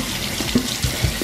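A kitchen tap runs steadily while chiles are rinsed under it, a close rushing stream with small splashes and bumps from the chiles.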